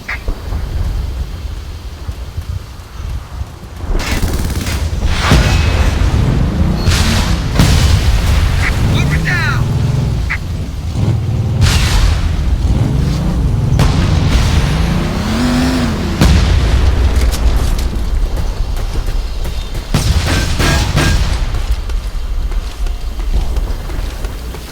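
Airstrike explosions in the video game Frontlines: Fuel of War, heavy booming blasts piling up over roughly twenty seconds, loud and dense with rumbling low end and intermittent sharp bursts, mixed with game sound.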